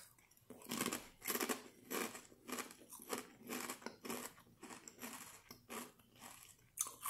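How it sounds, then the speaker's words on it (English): Repeated crisp crunching bites and chewing of Lay's Crunch Tators kettle-cooked potato chips, close and loud in a steady irregular rhythm with no talking. "Some uninterrupted chewing there for you."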